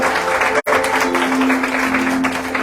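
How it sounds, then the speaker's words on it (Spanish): A Spanish-speaking church congregation gives a loud round of applause with dense, continuous clapping, a short drop near the start and a steady tone underneath. "dale un aplauso fuerte al Señor"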